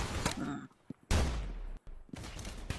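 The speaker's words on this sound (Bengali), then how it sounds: "এই স্নাইপার দিয়ে সবাই উড়াবো" Sniper rifle gunshots in the Roblox Arsenal shooting game, with sharp loud cracks and a heavy booming blast near the middle. Other gunfire and brief talk are mixed in around the shots.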